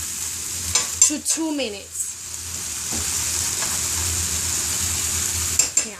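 Onion sizzles steadily in oil in a skillet, a close continuous frying hiss broken by stirring scrapes and a few utensil clinks, with a brief voice over it.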